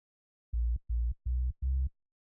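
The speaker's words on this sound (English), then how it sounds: "This is the sound of the sub bass." Four short, deep sub bass synth notes from a radio jingle production, played alone in an even rhythm with brief gaps, very low and smooth with almost no upper content.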